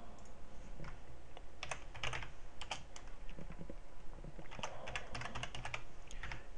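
Rapid, irregular clatter of keys as code is typed on a computer keyboard, close and fairly quiet, continuing steadily without any talk.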